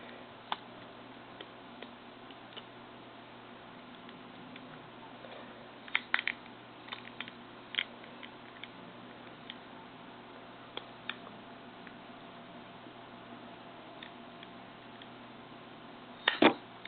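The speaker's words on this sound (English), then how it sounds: "You'll hear a clicking noise as you go around." Sharp little clicks sound as a plastic LG Chocolate VX8500 phone casing is pried open by hand, sparse irregular snaps close up over a quiet background hiss, with a cluster of louder clicks near the end.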